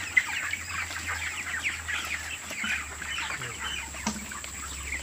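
Chickens cluck and chatter continuously inside a 3,000-bird poultry house, with a steady fan hum and low mechanical drone underneath and no voices.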